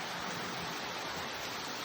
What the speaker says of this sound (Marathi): कसा आला पाऊस